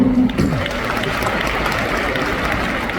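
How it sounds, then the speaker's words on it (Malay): Crowd applause at an Amway recognition event in Kuala Lumpur honours the upline, a steady wash of clapping throughout with a brief voice at the start. "Tepukan untuk upline anda."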